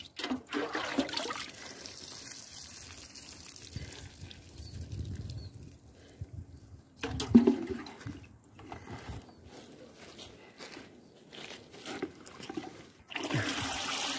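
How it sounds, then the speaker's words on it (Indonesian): Spring onions watered in a village garden in the late afternoon, with a steady close splash and trickle of water that pauses and then starts again, while no one speaks. "Kita menyiram bawang daun."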